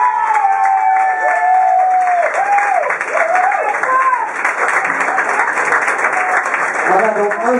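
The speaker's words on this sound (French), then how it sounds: "Je vous demanderai un dernier applaudissement pour l'ambulance." A crowd applauds and cheers at a Mister Open Bar pageant party in Liège, a continuous thick clatter of clapping under a loud, sustained voice that carries over the noise.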